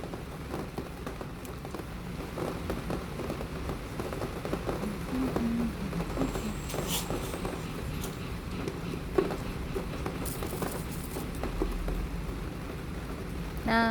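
Spring rain falls in a steady, even patter across the whole stretch, soft and close, with no voices and only a few faint clicks and knocks from nearby.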